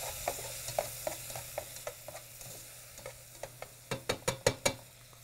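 Chardonnay white wine reducing in a pan with bacon, giving a steady low sizzle with a string of short pops and crackles that grow sharper and louder toward the end, close up with no talking.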